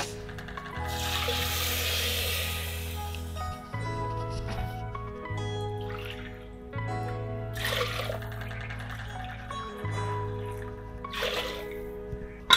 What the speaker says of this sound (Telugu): నేను 3 కప్స్ వాటర్ యాడ్ చేస్తున్నా